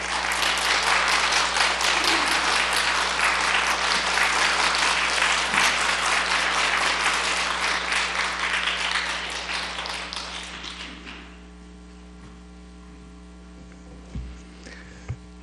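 A church congregation claps steadily for about ten seconds, dense and lively, welcoming a pastor, then the applause fades out, leaving a low electrical hum and a few faint taps.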